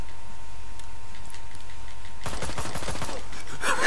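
Rapid gunfire in the Ride to Hell: Retribution video game fires as a dense burst of sharp shots in the last seconds, following a steady low hum of game ambience.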